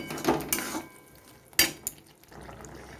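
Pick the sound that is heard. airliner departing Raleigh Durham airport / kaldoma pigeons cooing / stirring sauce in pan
stirring sauce in pan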